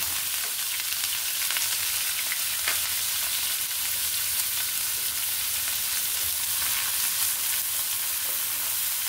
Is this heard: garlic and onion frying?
yes